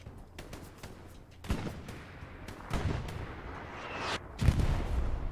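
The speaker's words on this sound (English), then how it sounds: "that artillery needs to fuck off" Artillery fire in the WWII shooter Hell Let Loose: a series of heavy booming impacts and rolling blasts at irregular intervals, some distant and some close and loud, mixed with scattered gunshots.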